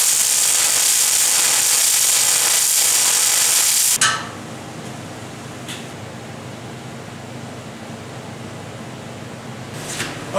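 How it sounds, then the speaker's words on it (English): A welder lays a quick bead on a steel frame, producing a steady, loud crackling hiss for about four seconds that cuts off abruptly, leaving quiet workshop room tone with a couple of faint knocks. "I'll show you a quick bead here."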